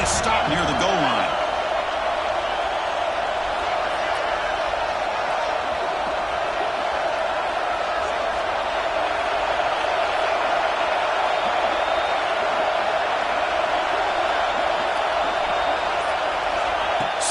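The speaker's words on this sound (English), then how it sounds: "The crowd really making some noise now, trying to help out this defense to get this stop near the goal line." A steady, dense roar of a football stadium crowd in South Bend holds throughout, loud and continuous with a faint thud near the start.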